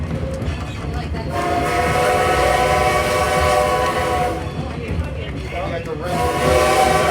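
A toy train at a toy train museum runs steadily on its track, with a sustained horn-like whistle tone sounding loud and near over the rolling clatter, while a voice speaks briefly.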